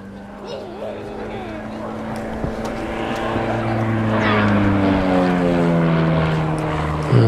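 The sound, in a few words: Scottish Aviation Bulldog trainer aircraft with Lycoming engine at airshow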